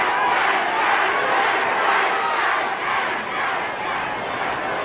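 A football crowd in a stadium chants at an American goalkeeper, a dense, sustained roar of many voices with rhythmic swells, loud and continuous throughout.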